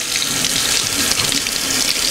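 Hot tap water runs steadily from a faucet over a popsicle mold holding chocolate fudge popsicles, a close, loud, continuous hiss and splash with no talking.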